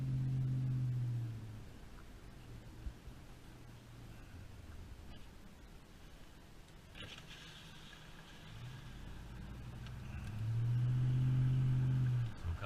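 A Dodge Ram Hemi truck cruises along with a low exhaust rumble that swells loudly at the start and end and settles into a steady, quieter drone in between.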